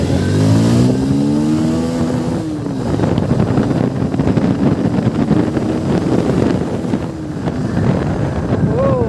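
A new, modified motorcycle rides along with a smooth engine hum and rising and falling revs, heavily buffeted by wind noise on the microphone.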